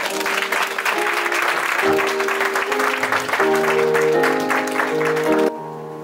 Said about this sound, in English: Shall we please give Madam another round of applause?